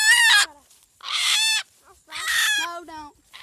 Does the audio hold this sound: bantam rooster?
yes